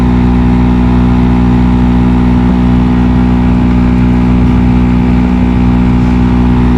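Loud, steady droning hum from the AC blower fan of a 2019 Nissan Sunny running at speed 4, a constant vibrating whir filling the cabin without a break or any talking.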